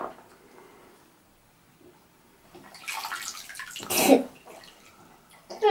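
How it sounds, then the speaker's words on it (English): A child ducks under bathwater in a tub. After a quiet start, sloshing and splashing build to one louder splash, then settle before a final surge of water noise. "now I'm going underneath my water."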